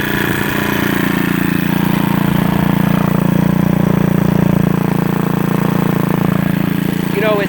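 A 150 cc engine runs at a steady idle, loud and close with a constant buzzing drone and no revving, while someone talks briefly near the end.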